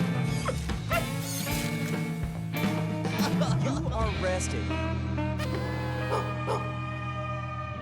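A dog barks and whimpers in short yips over music and other sound effects, while a voice speaks briefly over it.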